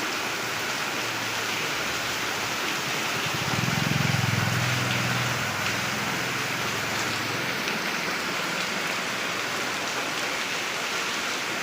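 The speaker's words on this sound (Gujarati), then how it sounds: "લગભગ અડધા કલાકથી વરસાદ શરૂ થઈ ગયો છે" Steady rain falls during a half-hour downpour while shoppers shelter and wait, a constant dense hiss of water with no talk, swelling briefly with a low rumble partway through.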